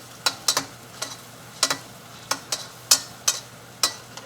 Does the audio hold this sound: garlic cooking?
yes